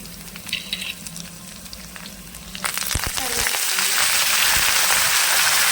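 Green chillies, dried red chillies, cumin, tempering seeds and garlic fry in hot oil in a small pan for a mango dal. A quiet stretch gives way to a loud, steady, close sizzle with occasional stirring clinks.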